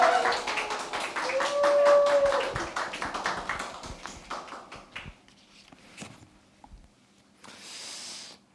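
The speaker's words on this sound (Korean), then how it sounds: "모두 같이 박수 좀 부탁드리겠습니다" Church congregation clapping to welcome a visiting pastor before his sermon at a Sunday worship service, a dense patter of hand claps that swells then thins out, with a host's voice over the start and a short burst again near the end.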